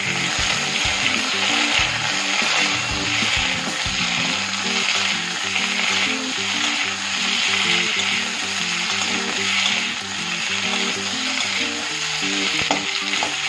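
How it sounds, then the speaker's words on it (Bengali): Taro and potato pieces frying in a pan, a constant oily sizzle with occasional stirring scrapes and clatters running throughout, no talking. "এবার আলুটাকেও এই কচুর সাথে ভালো করে ভেজে নেব"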